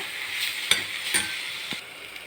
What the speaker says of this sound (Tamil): ஒரு நிமிஷம் கிண்டி விட்டிங்கன்னா போதும் அவரைக்காய் பொரியல் ரெடி